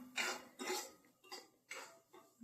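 A spoon stirs semolina in hot ghee in a pan, giving four or five soft, scraping strokes in an even rhythm, close and fairly quiet.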